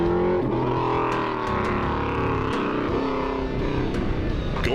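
A drift car's engine roars loud and steady on board as it threads through a slalom of gates, revving continuously with shifting pitch and no pauses.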